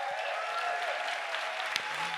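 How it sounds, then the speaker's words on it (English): Quiet, sustained applause from an audience at a science slam event, a continuous wash of many hands clapping at a distance with a faint tone running underneath. "Please give a big applause for sound and light."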